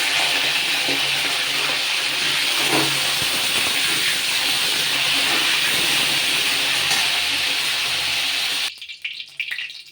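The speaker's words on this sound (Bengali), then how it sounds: "ফুলকপিটা ভেজে নেব" Cauliflower pieces frying in a pan, giving a loud, continuous hiss and sizzle that holds steady for several seconds before dropping away suddenly, with no voices.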